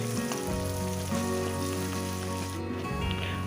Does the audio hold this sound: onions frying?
yes